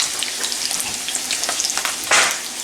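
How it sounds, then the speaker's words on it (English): Fish frying in a cast iron skillet, a steady close crackling sizzle with a brief louder burst of spattering near the end. "He's frying them in a cast iron skillet."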